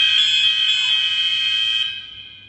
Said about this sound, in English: Just fire alarm test, folks, that's all.